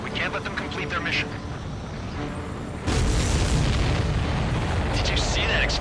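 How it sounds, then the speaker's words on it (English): A supply ship blows up in a flight combat video game, a sudden loud broadband explosion that bursts in about halfway through and then sustains as a heavy rumbling roar, with game sounds and some speech beforehand. "Did you see that explosion?"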